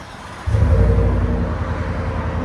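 A 2023 Ford F-150 with a 5.0L V8 and Flowmaster Super 10 muffler, fitted with a 5-inch tip, rumbles low and steady after a quieter start, its deep exhaust note swelling suddenly and then holding near and loud.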